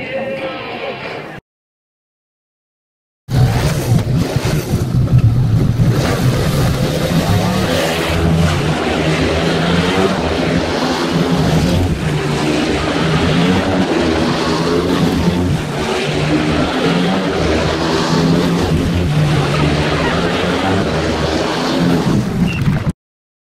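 Speedway race heat at a dirt track: loud, continuous engine roar of several bikes racing by, rising and falling as they pass, after a short silent gap at the start, with crowd or voices faintly mixed in.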